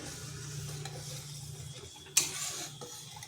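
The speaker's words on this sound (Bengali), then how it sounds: "এটাকে একটু কষে নিচ্ছি" Potato and pointed gourd curry base being sautéed, a faint low sizzle with light stirring and one sharp metallic clink from a utensil partway through.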